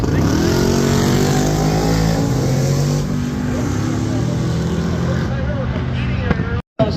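A low 10-second GMC pickup truck roars down a drag strip at a northern Michigan racing event, its engine loud and sustained, then fading as it pulls away from the start.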